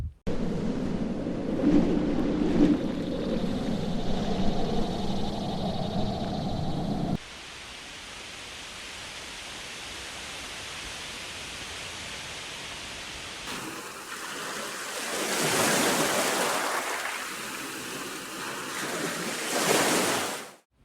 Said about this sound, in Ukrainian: Послухай різні звуки шуму вітру.